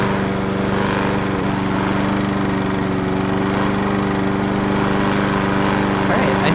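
A lawn mower engine drones steadily and loudly throughout in a lawnmower video game, a constant close buzzing hum.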